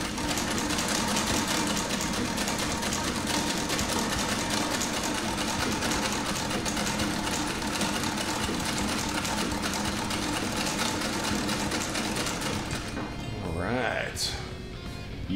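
A 1910 sewing machine stitching a seam on a new pair of jeans, running in a steady fast mechanical whir for most of the time before slowing to a stop near the end.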